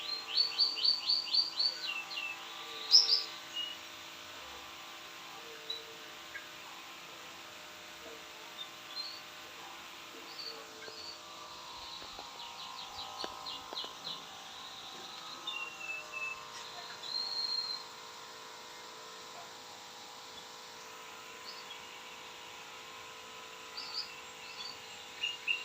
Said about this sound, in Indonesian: Terpantau ya burung tilang mandi.